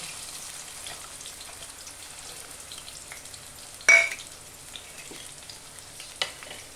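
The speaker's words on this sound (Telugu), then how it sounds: "ఆయిల్ ఉల్లిపాయలు వేసేస్తున్నాను పచ్చిమిర్చి ఉల్లిపాయలు" Onions and green chillies fry in hot oil with a faint, steady crackling sizzle, a sudden louder spatter burst midway, then quieter popping and stirring.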